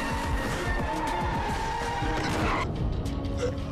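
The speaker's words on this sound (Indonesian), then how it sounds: "dan beruntung dia tertabrak mobil" In a film sound effect, a car's tires squeal in repeated sharp skids and the car then crashes into a person, the screeching loud and close before a sudden impact.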